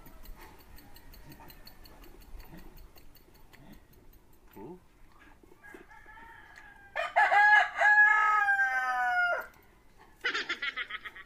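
A rooster crows twice, loud and close, after a quieter stretch of faint background noise and murmuring voices.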